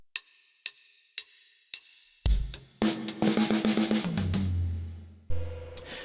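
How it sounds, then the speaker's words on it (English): A drummer counts in with four sharp stick clicks, then plays a fast drum fill on a kit, a quick run of snare and tom hits ending on a crash cymbal, close and loud, from a song's drum part. "This drum fill, I'll play it up to speed first of all."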